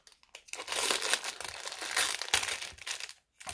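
Packaging crinkles and crumples loudly and close up as a parcel from a secondhand purchase is opened, in dense rustling bursts with a brief pause near the end and no talking.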